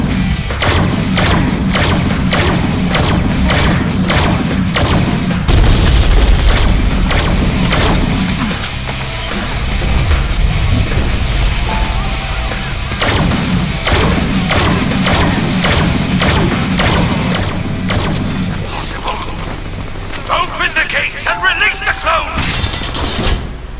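Shotgun blasts in the Deadpool video game fire in a rapid, repeated series of loud, punchy booms across the whole stretch, mixed with game effects and occasional in-game voices.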